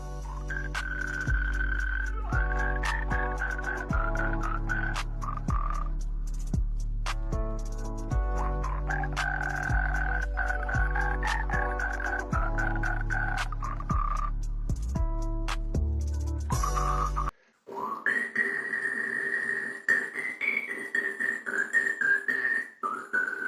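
A frog-croak remix of a song: electronic music built from repeated, pitched croaking and gobbling calls in a bouncy rhythm, with a sudden break and shift in the second half.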